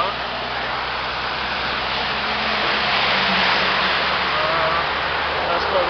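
Road noise roars in through a wide-open car window inside the Mont Blanc tunnel, a loud steady broadband rush that swells slightly midway, with no talk over it.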